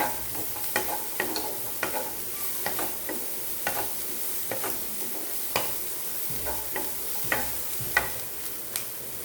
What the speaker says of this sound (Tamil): காய் கொஞ்சம் 2 நிமிஷம் நல்லா வதக்கி விட்டுக்கலாம்.